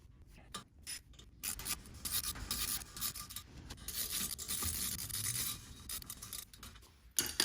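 Steel guide bolts threaded by hand into a front brake caliper on a 2017 BMW X4 M40i (F26), a quiet ongoing rubbing, scraping rasp with small ratchet-like clicks, close up and without speech.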